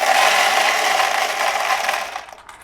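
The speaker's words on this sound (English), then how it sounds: "I'm about to put some coffee beans into the machine." Raw coffee beans poured into a new coffee roasting machine aboard a narrowboat, a loud continuous rattling cascade that tapers off and stops near the end.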